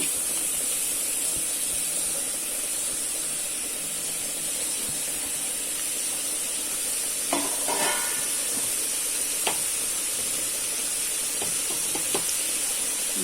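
Coconut fish curry with beetroot sizzles steadily in a pan, with a continuous hiss broken by a few sharp scrapes and clinks of a spoon stirring midway.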